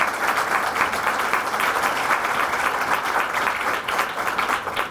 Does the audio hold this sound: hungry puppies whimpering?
no